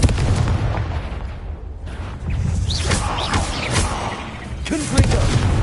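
Confringo spell explosions in the Hogwarts Legacy video game, inside a cave maze: loud booming blasts and crackling bursts, with a heavy hit near the start and another near the end, over a rumbling background.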